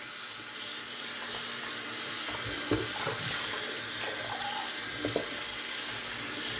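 A lathered shaving brush is rinsed under a running tap, giving a steady, close rush of water that fills the whole stretch, with a few brief splashy surges as the brush moves through the stream.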